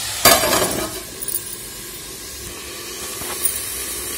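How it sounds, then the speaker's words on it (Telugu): A lid is set down on a pan of cabbage and chana dal curry with a sharp clink, followed by a steady steam hiss and a few smaller clinks. "ఇప్పుడు మూత పెట్టి ఒక 5 నిమిషస్"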